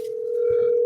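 A telephone dial tone hums steadily and loudly while a call back is placed, one continuous unbroken tone filling the whole moment with no talk over it.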